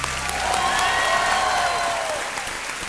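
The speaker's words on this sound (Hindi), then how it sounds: "तालियां बजती रहें जयश्री यादव जी के लिए।" Studio audience applauds a contestant on the Hindi quiz show Kaun Banega Crorepati, a dense, steady wash of clapping that holds loud and even for about three seconds before easing slightly.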